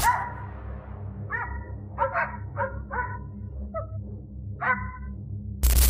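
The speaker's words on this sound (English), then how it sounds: "a group of trained dogs chasing and pushing a large grizzly bear into the open" A pack of trained hunting dogs barking as they chase a large grizzly bear outdoors; about seven sharp, yelping barks come in uneven bursts over a constant low rumble, fairly near, ending in a loud burst of noise.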